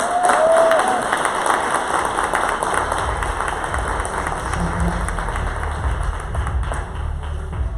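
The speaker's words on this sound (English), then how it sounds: "Give them a round of applause" An audience at a Lakewood business speaking engagement gives a round of applause, a broad patter of many hands with some cheering. It starts strongest and eases off slightly while staying steady throughout.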